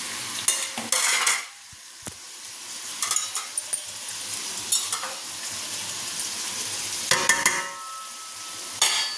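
Sliced eggplant frying in a pan with salt and turmeric, stirred with a utensil: steady sizzling underneath, broken by close scraping and clinking stirs in bursts, one brief pause in the sizzle, no talking.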